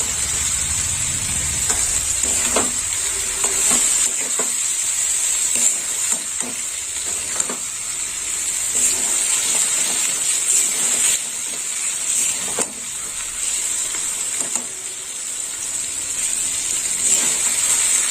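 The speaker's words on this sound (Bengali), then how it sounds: "একটু নেড়ে চেড়ে নেবো।" Pre-fried eggplant sizzles steadily in hot oil in a pan, a continuous bright frying hiss broken by repeated scrapes and clacks as it is stirred, with no talking.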